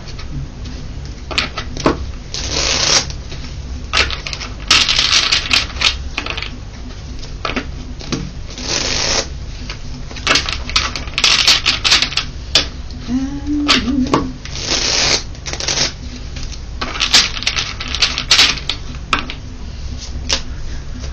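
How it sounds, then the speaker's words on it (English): A series of sharp knocks and crisp shuffling clatters of tarot cards, repeated in bursts over a steady low background hum, close by. "Let's give these a knock and a shuffle."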